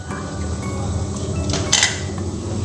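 A metal lid is lifted off a cooking pot of cauliflower and chicken curry with a brief clatter, set against a steady background hum.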